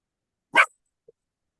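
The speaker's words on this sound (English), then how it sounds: "Don't bark at me." A dog gives one short, sharp bark close by, followed by near silence and a tiny faint sound a moment later.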